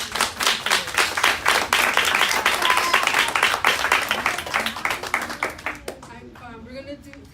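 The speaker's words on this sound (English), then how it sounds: "Give God a hand clap of praise." Congregation clapping in praise to God at a church-style gathering, a dense burst of hands near and loud for about six seconds before fading out, with a voice speaking at the close.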